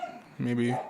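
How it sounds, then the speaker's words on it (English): A dog gives one short bark at moderate distance just after a person finishes speaking indoors. "Sorry about the dog barking if you can hear that."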